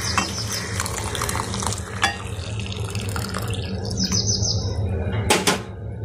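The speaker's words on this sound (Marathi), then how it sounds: "दूध घालते त्याच्यामध्ये।" Milk is poured into thick, cafe-style masala tea simmering in a pot: a steady, close liquid pour with light splashes and drips over a low background hum.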